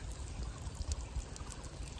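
Water from a hose pours steadily onto kidney bean plants in a garden, a continuous splashing trickle with no pauses, close and fairly loud.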